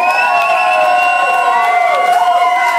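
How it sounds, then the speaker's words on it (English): Wedding guests cheer and whoop for the couple, a loud, continuous wash of sustained voices with no pause through the short stretch. "A big round of applause, please"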